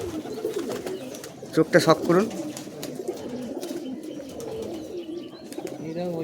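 Giribaz pigeons coo in a loft, with a louder burst of throaty cooing partway through and softer coos around it, while people talk close by.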